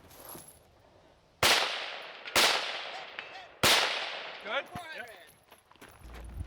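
Three loud, sharp 5.56 rifle shots crack out at a shooting match stage, spaced about a second apart, each ringing off with a decaying tail, followed by fainter clanks and metallic rattles of the rifle being handled.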